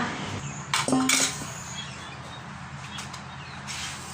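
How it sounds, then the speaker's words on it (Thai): A pot of hot syrup is lifted and set down into a basin of cold water, making one brief metallic clank and scrape close by, followed by a quiet, steady background. "เสร็จแล้วเรายกน้ำเชื่อมวางลงในกระมังเลยค่ะ"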